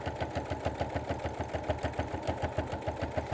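Sewing machine stitching a fabric table runner, a steady fast rhythmic chatter of needle strokes running continuously and close up with no talking.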